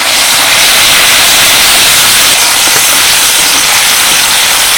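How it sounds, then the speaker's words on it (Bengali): Tomato and green chillies frying in hot oil with whole cardamom, cloves, cinnamon and black cumin, giving a loud, steady, close-up hiss that holds unbroken throughout. "হালকা একটু টমেটো আর কাঁচা লঙ্কাটাকে ভেজে নিলাম।"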